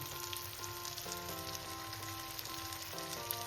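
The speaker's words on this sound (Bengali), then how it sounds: "এবার আমি মশলার সাথে একটু কষিয়ে নেব" Spices fry for a mixed dal, giving a steady, close sizzle and crackle from the hot pan with faint tonal hum behind it and no talking.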